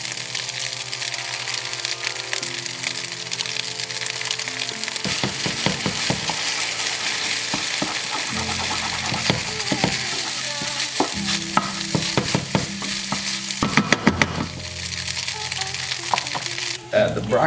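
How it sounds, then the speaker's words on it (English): An egg cracked into a hot pan fries with a loud, steady sizzle and crackle up close, broken by clattering stirring and scraping and a few sharper knocks. "I'm gonna crack an egg."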